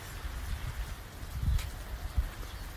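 A water sprinkler sprays farm crops with a soft, steady hiss of falling droplets and occasional low thumps, heard outdoors with no talk.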